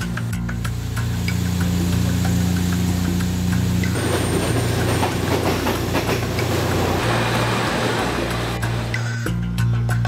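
A Thai third-class passenger train rolls along the rails, a loud continuous rumble with steady rattling and clattering from the carriages, heard close from on board throughout.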